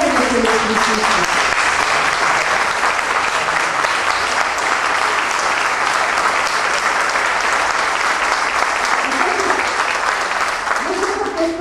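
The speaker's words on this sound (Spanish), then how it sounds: "nos sale el aplauso porque nos da entusiasmo" Audience applause at a community study-circle gathering, loud and steady with dense continuous clapping filling the whole stretch, a few voices faintly audible underneath.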